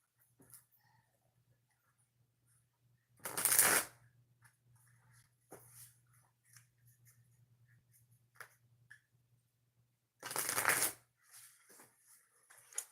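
Cards are riffle-shuffled twice, two brisk fluttering bursts separated by a long quiet stretch with faint handling noises and a low hum.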